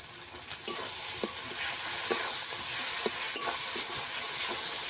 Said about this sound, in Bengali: সম্পূর্ণ মশলা ভালো করে আমি একটু কষিয়ে নেব।